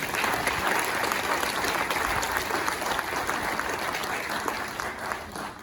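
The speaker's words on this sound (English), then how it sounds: "So please give the Guyana delegation and the administration a round of applause." Sustained applause from an audience honouring the Guyana delegation at an official gathering, a steady dense wash of clapping holding at full level for several seconds before easing slightly.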